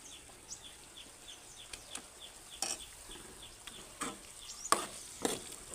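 A spoon stirs masala egg and prawn curry in a pan, giving soft scraping strokes and a light sizzle, quiet and close, with a few sharper clinks near the end.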